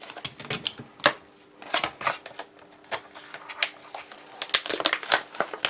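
Scissors cut open a Norwegian army arctic field ration pouch, giving a close series of sharp snips and crinkling foil-plastic rustles in an uneven rhythm.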